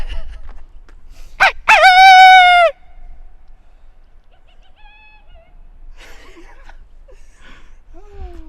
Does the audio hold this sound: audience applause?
no